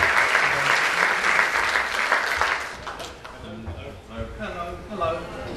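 Warm audience applause fills a rally hall, dense clapping strongest at first and then thinning out, with a voice talking over the tail end.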